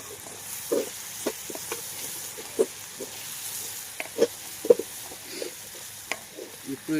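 Egg curry ingredients sizzle in a pan on the stove, a soft continuous frying hiss broken by frequent scraping, clinking stirs of a spoon against the pan, close up and with no talking.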